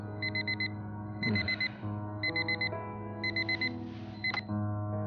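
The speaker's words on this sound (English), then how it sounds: "The same alarm tone that Harry can sleep through." An alarm clock's alarm tone repeats in short bursts of rapid beeps over a steady low hum, clear and close with no talk.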